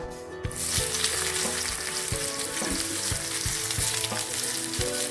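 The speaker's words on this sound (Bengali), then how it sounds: "এই তেলের মধ্যে আমি পেঁয়াজ কুচি দেবো।" Chopped onion, two medium onions' worth, dropped into hot oil after dried red chilies have fried, bursting into loud, dense close-up sizzling with rhythmic stirring knocks throughout.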